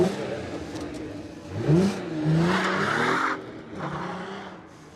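An Audi TT revs and pulls away with a brief tire squeal, its engine note rising and then fading as it moves off.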